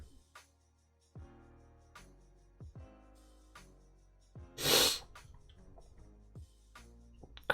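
A single loud sneeze bursts out near the middle, close and abrupt, amid quiet room sounds and faint clicks before and after.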